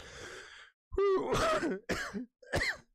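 A run of harsh, close coughs, three or four bursts in quick succession with brief gaps between them.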